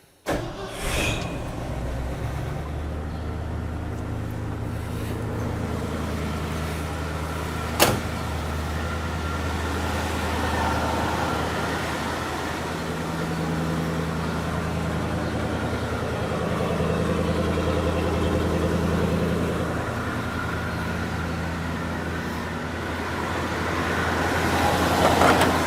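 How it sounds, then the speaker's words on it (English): A 1971 Ford F-250 Custom Highboy 4x4 with an automatic choke cranks and fires on a cold start, then settles into a steady, droning idle whose pitch shifts slightly as it warms, close and alone with no talk. "let's do a cold start. The truck's been sitting here all night."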